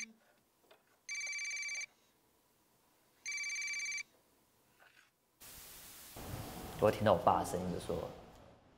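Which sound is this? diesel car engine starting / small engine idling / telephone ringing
telephone ringing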